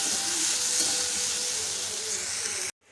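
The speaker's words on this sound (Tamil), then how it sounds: "தக்காளி பழம் வதங்கட்டும்" Tomatoes sauté in a pan with turmeric and salt, giving a steady close hissing sizzle that runs evenly and then cuts off abruptly near the end, with no talk.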